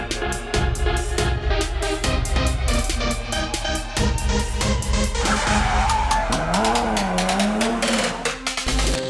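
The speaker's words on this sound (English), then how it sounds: "we have WION's very own Jeremy Clarkson testing the all-new Mercedes AMG C43 in India's only F1 track" A Mercedes-AMG C43 is driven hard around the Buddh International Circuit near New Delhi, its tyres squealing and skidding loudly through corners while the engine roars. Busy music plays throughout, and the car sounds close.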